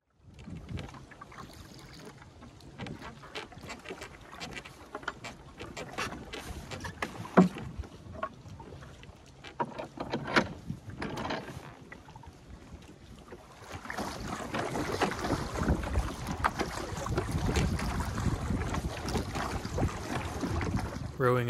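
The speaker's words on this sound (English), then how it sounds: "Rowing upwind, I'm now headed for the back of the creek" A small wooden skiff is rowed upwind on a breezy creek, with faint oar strokes, water sloshing and wind gusts; the rustle and wind noise grow louder and denser in the second half.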